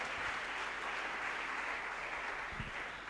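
A church congregation applauds the Lord, steady sustained clapping from many hands that fills the room evenly for the whole stretch without pause.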